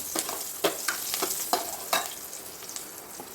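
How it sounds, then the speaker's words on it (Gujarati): Green chillies sautéing in hot oil for dal pakwan, a steady close sizzle broken by several sharp stirring scrapes, heard alone without any talk. "આ રીતે આને તેલમાં સાતળી દઈશું"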